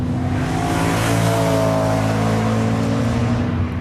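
A 2010 BMW M3 engine roars loudly and continuously through an Akrapovič exhaust, a deep, steady drone held close for a few seconds.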